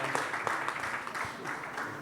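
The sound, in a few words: audience applause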